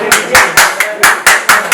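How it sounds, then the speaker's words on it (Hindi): Sharp, spaced claps ring out loud and close at an awards ceremony, about eight distinct hand claps in an uneven rhythm rather than a full crowd's applause. "जोरदार तालियों से स्वागत हो।"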